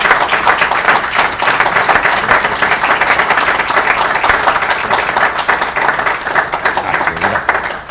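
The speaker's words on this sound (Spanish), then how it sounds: "Denle un aplauso a Dios." A church congregation at an evangelical service breaks into loud, vigorous applause, a continuous dense patter of many hands clapping close by, with no talk over it.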